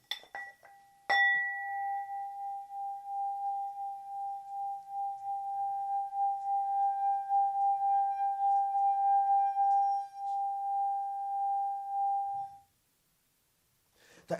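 A meditation singing bowl is struck once and rings with a clear, pure sustained tone that wavers gently for roughly eleven seconds before stopping abruptly, heard alone and fairly soft.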